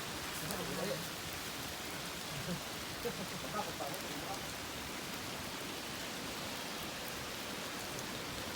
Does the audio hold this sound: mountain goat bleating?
no